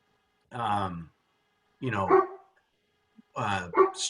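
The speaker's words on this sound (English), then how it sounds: "the dogs are going off" Dogs barking in short bursts, three separate outbursts of loud, close barking with brief pauses between them, during an outdoor conversation about watershed forestry.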